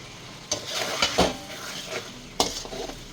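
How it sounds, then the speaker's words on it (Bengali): Chicken being stirred and fried with ground spices in a pan, with a few distinct scraping clatters of a utensil against the metal over a steady low sizzle, close up and with no talking. "এখন আবার কিছুক্ষণ সময় মশলাটাকে কষিয়ে নেই"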